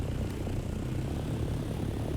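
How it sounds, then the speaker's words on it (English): An aircraft engine starts up in a video game, a steady loud droning roar with propeller-like hum filling the whole moment evenly, no voices. "Why is the engine startup so goddamn loud?"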